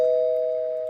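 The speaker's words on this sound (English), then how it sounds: "So is that the doorbell I hear?" A doorbell gives a single sustained electronic tone, loud and clear, holding steady for about a second with no voices over it.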